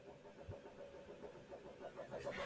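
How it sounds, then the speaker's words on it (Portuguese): Small motorcycle passing outside, a mid-pitched engine drone rising and falling in the background, fairly faint and steady, growing slightly louder toward the end. "Vocês estão ouvindo barulho de motinha aqui"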